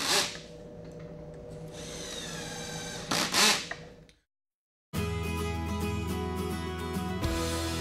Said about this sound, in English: Use a face clamp over the joint line to hold the frame into position while driving the screws